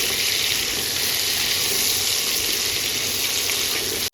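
Taro stems fry with salt in a pan over a medium flame, a loud, steady, close sizzle filling the whole stretch before cutting off abruptly at the end.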